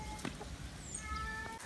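Chickens cluck faintly in a farmyard, soft scattered clucks and a few brief bird calls over steady outdoor background noise, somewhat distant.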